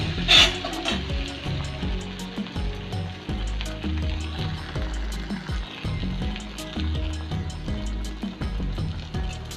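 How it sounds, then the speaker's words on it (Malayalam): Vattapathiri frying in hot oil, a dense crackling sizzle close by with frequent small pops and scraping clicks throughout. "ഇനി നമുക്ക് ഓരോന്നായിട്ട് ഇട്ടിട്ട് വറുത്തെടുക്കാം."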